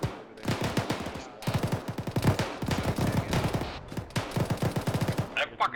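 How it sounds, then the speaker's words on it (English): Rapid gunfire in a video game comes in long, dense automatic bursts separated by short pauses, loud and close, ending with a brief higher-pitched sound. "That fucking thing is shooting at us now."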